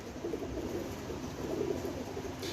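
Salara pigeon cooing in low, steady rolling murmurs, close by and continuous, with no voices over it.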